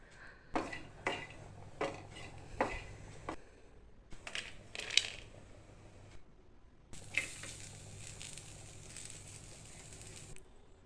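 Spices and dried coconut dry-roasting in a pan without oil for a mutton dish: a spoon scrapes and taps against the metal pan in irregular bursts, close and soft, with no talking.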